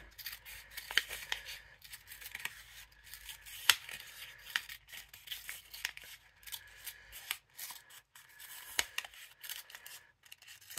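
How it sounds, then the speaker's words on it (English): Scissors snip in quick, irregular bursts while cutting a circle from a paper cupcake liner, crisp and close with soft paper rustle between cuts. "I'm going to just cut the first circle"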